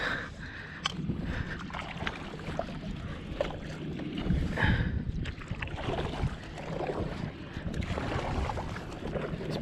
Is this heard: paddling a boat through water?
yes